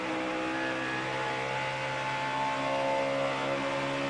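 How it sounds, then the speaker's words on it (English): A NASCAR Roush Yates race car engine at the 2009 Kobalt Tools 500 runs steadily at high speed with a droning, harmonic tone, the sound of a motor thought to be failing, continuous and close, with no talk. "He says he thinks the engine is in the process of blowing up."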